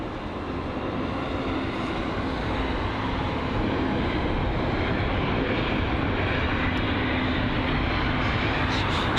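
Airbus A220-300 airliner at London Heathrow just after landing on runway 09 left, a steady broadband engine roar that holds level and close throughout, slightly rising toward the end, with no voices over it.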